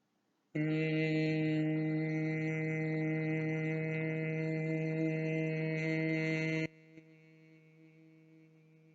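A voice tones a long A vowel, a steady, sustained tone with rich harmonics held evenly for about six seconds, then cuts off, leaving a faint hum.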